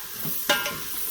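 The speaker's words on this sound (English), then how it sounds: "Let's stir it. And get the butter all on the mushrooms." Mushrooms sizzle in butter inside an Instant Pot, with a steady close hiss broken by one sharp scraping stir.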